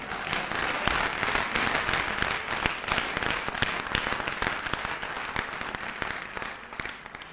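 A studio audience at a comedy talk show claps in a dense, sustained burst of applause, loud and continuous throughout with no voices on top.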